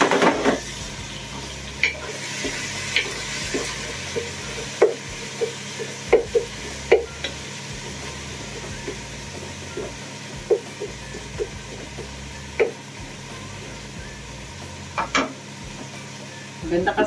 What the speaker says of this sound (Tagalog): titingnan natin ang ating ginisang kamatis na pinapalambot